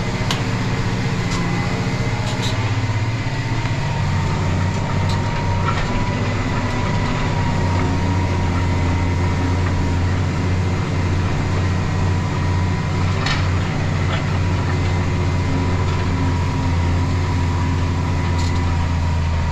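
A tractor works a field preparing ground for sunflowers, its engine running as a loud, continuous low drone with mechanical rumble, heard steadily from inside the cab without talk.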